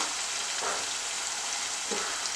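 Onions with three green chillies and a little salt frying in a pan, a steady broadband sizzle running throughout with a couple of faint stirring scrapes, no voices.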